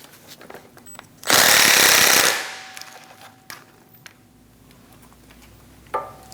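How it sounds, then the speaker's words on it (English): An impact wrench with a 19mm socket spins off a front strut nut on a 2008-2015 Scion xB, one loud rattling burst lasting about a second, followed by a quiet workshop with a few faint clicks. "We're going to use a 19mm socket, and we're going to remove the nut."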